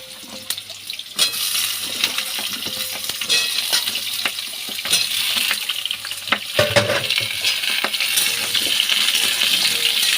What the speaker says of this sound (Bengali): আমি আলু আর পটল একসাথেই ভেজে নেব।